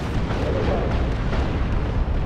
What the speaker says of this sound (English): cannon going to finish its salvo there onto the Land Raider Phobos